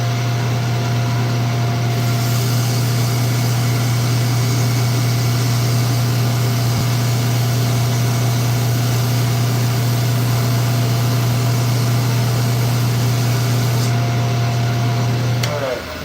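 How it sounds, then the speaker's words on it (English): A belt sander runs in a skateboard shop, giving a loud, steady machine drone with a low hum that holds unbroken for about fifteen seconds before cutting off near the end. "So this is the belt sander."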